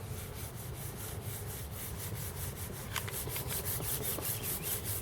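A clay bar rubs over car paint contaminated with embedded impurities, making a quiet, continuous gritty scraping with a faint rhythmic back-and-forth texture.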